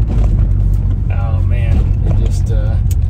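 A 1990 Lotus Esprit SE turbo engine revs and pulls hard under acceleration, a loud steady drone from inside the car with a voice talking over it.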